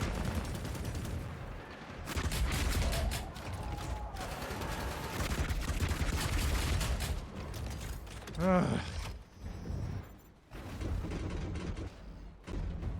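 Mech combat in the game Hawken Reborn, with sustained rapid gunfire and mechanical clanking and creaking, loud and continuous with brief gaps and a whirring sweep partway through.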